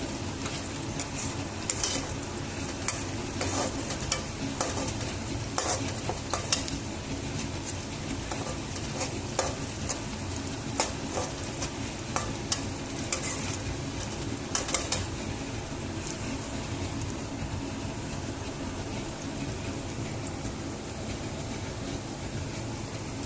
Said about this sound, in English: I can Smell the aroma of the onions getting fried.